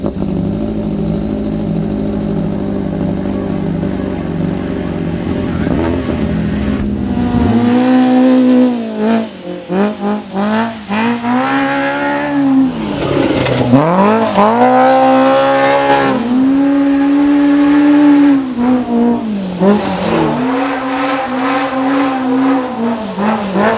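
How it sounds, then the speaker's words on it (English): Polaris RZR Pro R side-by-side with a four-cylinder engine and MBRP exhaust: a low idle rumble, then repeated loud, near revs and accelerating passes with deep throaty exhaust and shifting pitch, no talk. "4-cylinder engine, and now you got your Mbrp exhaust on it"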